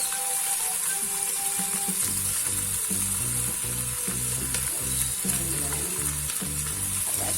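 Steady sizzling and frying of zucchini and eggplant in a hot pan, with intermittent stirring and scraping sounds, close and continuous, no talking.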